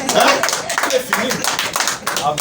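An audience claps in irregular bursts at a religious gathering, a crowd of hands rattling steadily while a voice talks over it.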